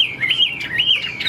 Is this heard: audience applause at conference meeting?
no